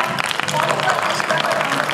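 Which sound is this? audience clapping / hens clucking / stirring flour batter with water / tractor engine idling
audience clapping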